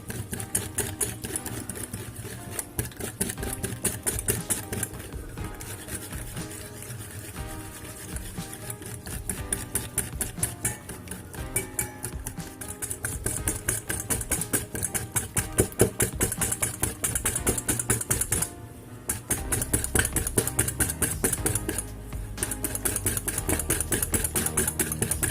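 An electric mixer blends grated cheese with margarine, whirring in a continuous motor drone with two brief dips partway through and no speech over it.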